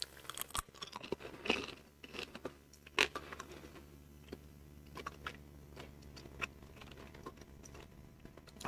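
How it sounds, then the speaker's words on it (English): Crisp crunches from close-up bites and chewing of beef jerky chips, a few sharp loud cracks followed by softer irregular crunching, with no talking. "it is pretty crunchy, but again, not really, it's not crispy like a potato chip"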